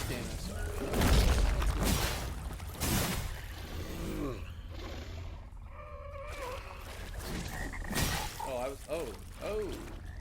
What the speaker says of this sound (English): Exploding frog.